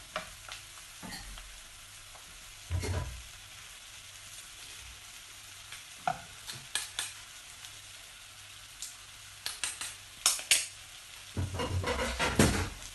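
Onions and pressed garlic sautéing in a pan for coconut-milk prawns, a soft low sizzle broken by scattered clinks and scrapes of a utensil stirring, close and quiet.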